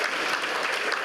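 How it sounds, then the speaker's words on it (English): An awards-night audience applauds a volunteer of the year winner, dense continuous clapping from a crowd, loud and even from start to end. "So once again, a round of applause for Jade Clements"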